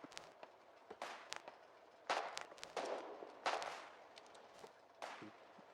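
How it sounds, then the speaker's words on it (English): Occasional gunshots ring out on a quiet battlefield in the video game Foxhole, several scattered sharp distant cracks at irregular intervals over low ambient noise. "as silence falls across this battlefield, with only peppered by the occasional gunshot"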